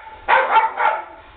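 A few dogs at a rescue intake; three quick barks or yips from one dog close by, with no talk.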